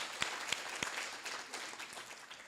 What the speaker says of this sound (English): I think we need to give them a great round of applause for their great efforts this year